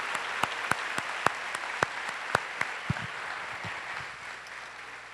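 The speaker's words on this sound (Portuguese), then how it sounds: "Pode aplaudir o Senhor." A church congregation claps in praise during a worship service, a loose crowd applause with several sharp individual claps standing out, gradually thinning toward the end.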